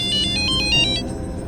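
A phone ringtone chimes in repeated short electronic bursts, loud and close, over a low background rumble, then fades out.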